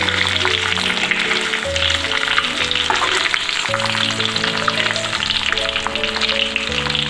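Chicken leg pieces frying in oil, a loud, steady crackle and sizzle that runs throughout with no talk over it.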